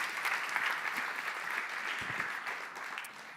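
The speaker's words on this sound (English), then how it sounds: "you can cheer for that" A conference audience at a tech startup event in Riga claps and cheers steadily, a dense, even wash of applause from a large crowd that holds for the whole stretch.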